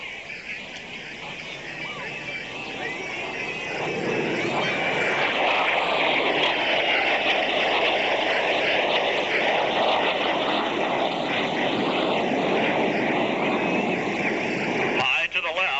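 Blue Angels jets roar past during an opposing inverted pass at a 1986 air show in Cleveland, a loud sustained engine rumble that swells and holds steady, with a public-address announcer speaking over it.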